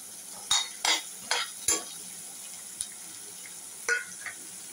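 Tomato, onion and garlic, all chopped, sauté in a pan for an eggplant and potato masala, with a handful of sharp spatula scrapes and clinks spaced over a steady low sizzle; no one speaks.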